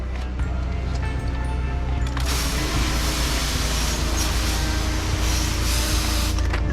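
A loud, continuous pressure washer spray roars up after a couple of seconds over a steady engine drone, close and unbroken.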